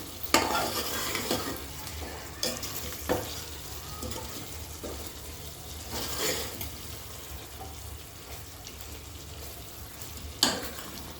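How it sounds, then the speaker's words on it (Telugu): Chicken pieces for pulao frying in a pan, a steady moderate sizzle with repeated scraping stirs and occasional clinks, close by and without talking. "ఇప్పుడు మనం ఫ్రై చేసుకుందాం ఇలా"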